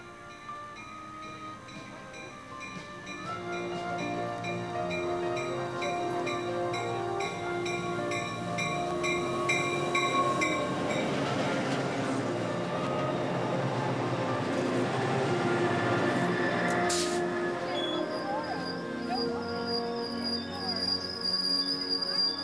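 The Ocean passenger train rolls along near Rogersville in eastern Canada with a steady rumble and layered mechanical hum, a sharp click near the end, no talking.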